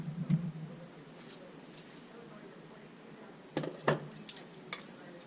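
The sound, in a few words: lid being taken off a pot of chicken soup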